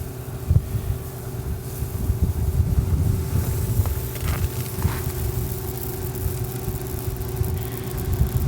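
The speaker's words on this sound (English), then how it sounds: "Man, is it windy" Gusty wind buffets the microphone in low, rumbling bursts, with a faint steady hum underneath and no talking.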